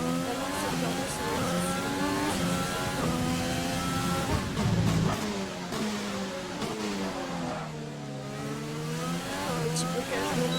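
An F1 car in the racing game F1 2020 locks a wheel under braking, with a brief scrubbing burst over a steadily whining, shifting engine note, while a commentator talks throughout.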